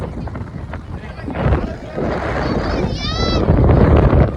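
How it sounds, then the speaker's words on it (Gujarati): Strong wind on a mountain, Banbha hill in Gujarat, buffets the microphone with continuous low rumbling gusts while someone talks over it. "અત્યારે કઈ પવન આવે છે જોરદાર મારો અવાજ નહીં આવતો હોય"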